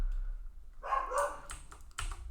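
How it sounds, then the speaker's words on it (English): A dog barks a few times in the background of a room while someone types on a computer keyboard, the short woofs and yips sounding somewhat distant and moderately loud. "See, you hear the barking? There's barking."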